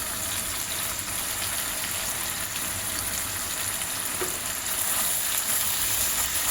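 Ground spices with turmeric, salt and a little sugar stir-frying in a pan for egg malai curry, a loud, steady, close sizzle that never lets up and has no voices.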